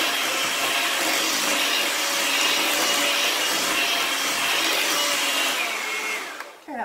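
Electric mixer turned up to high speed, creaming chocolate chip cookie dough until smooth; a steady, loud whirring motor drone runs throughout, then cuts off near the end.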